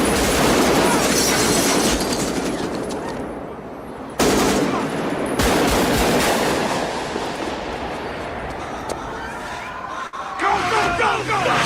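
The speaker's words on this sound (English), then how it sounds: "It's just gunshots." Movie gunfire played back through speakers in an intense scene with no music: loud, rapid bursts of automatic fire and scattered shots in a dense, sustained barrage, with a brief pause and a sharp cut midway.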